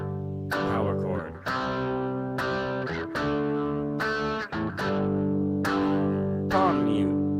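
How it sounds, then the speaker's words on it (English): A distorted electric guitar strikes a series of sustained power chords, each ringing out before the next hit, with brief gaps between the chord changes. "Power chord, power chord, power chord."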